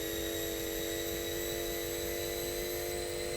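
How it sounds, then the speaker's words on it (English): A car engine in the GearBlocks video game screams at top speed, a steady sustained high-pitched whine with layered tonal harmonics, loud and unbroken throughout with no talk. "Hear the engine screaming."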